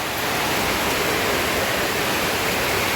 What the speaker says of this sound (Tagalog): Tumaragasa po ang tubig.